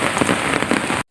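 Heavy rain pours down steadily on a surface, a dense, loud, continuous hiss with no voices, cutting off abruptly at the end.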